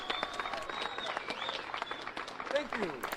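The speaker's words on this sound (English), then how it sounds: "And listen how they're all clapping." An audience claps and cheers at a live event, a steady faint wash of applause with scattered whoops, heard at a distance and fairly quiet.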